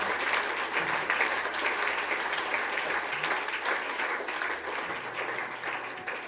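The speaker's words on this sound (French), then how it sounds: "On va applaudir bien fort le Seigneur." A church congregation applauds loudly and steadily, a dense wash of clapping that holds for several seconds with a faint voice underneath and eases slightly toward the end.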